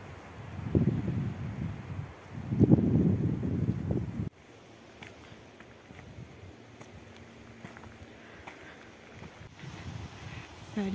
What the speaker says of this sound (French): C'est ce vent le pire.